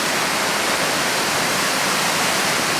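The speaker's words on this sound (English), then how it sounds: "It's always worth a hike when you either get a rainbow or a waterfall." A waterfall on the Beehive hike near Lake Louise sends out a steady, loud, broadband rush of falling water that holds constant throughout, with no voices.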